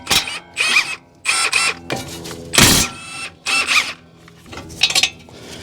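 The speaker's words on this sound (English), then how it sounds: "now I'm going to take off these two caliper bracket bolts" Socket wrench with a 19mm socket loosening brake caliper bracket bolts on a Honda Pilot, bursts of clicking ratchet strokes separated by brief pauses, close and loud, with metallic clanks between.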